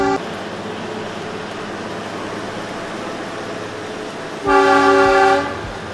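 A Kalka Shimla narrow-gauge mountain railway train runs near a tunnel and arch gallery, a steady rumble from a distance, then a loud tonal horn blast for about a second near the end.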